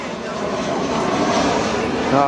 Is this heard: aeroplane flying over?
yes